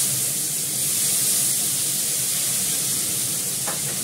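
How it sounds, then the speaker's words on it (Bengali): Okra tempered with cumin and asafoetida sizzles in hot oil, a close, steady, continuous frying hiss with no voices over it. "জিরে আর হিং দিয়ে ভেন্ডিটা ফোড়ন দিচ্ছি"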